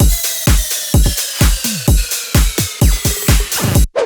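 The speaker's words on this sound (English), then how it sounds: "So drum all together they sound like this." Future house drum pattern layering kicks, toms, rides, tambourine loops and hi-hats, a steady punchy four-on-the-floor groove with bright shimmering highs, loud and without any voices.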